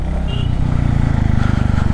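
A Royal Enfield Classic motorcycle runs at speed with a steady, loud, low thumping engine pulse and heavy rumble, heard up close from the rider's position with continuous wind noise.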